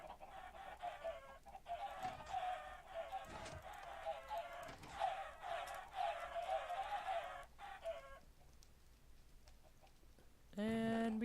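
Chickens in Minecraft cluck repeatedly in a dense, overlapping rhythm for several seconds before falling quiet, with a short loud sound cutting in at the end.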